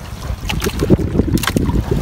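Wind gusting over open sea around a small fishing boat near the shore in choppy water, a loud, steady rushing buffet against the microphone with rough bursts throughout.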